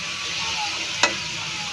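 Cauliflower and mixed vegetables sautéing in a pan, giving a steady broadband sizzle with light stirring and one brief scrape of a utensil partway through; no one speaks.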